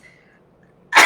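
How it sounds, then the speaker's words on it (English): A single sharp, loud human sneeze bursts out at the very end after near silence. "I rarely sneeze."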